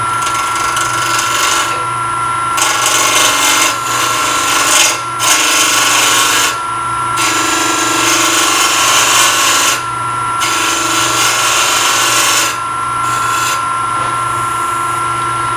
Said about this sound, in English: I'm going to use my bowl gouge just simply to make this round